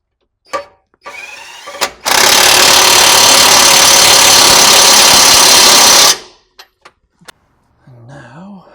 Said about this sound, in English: use this impact gun to put the lower bolt all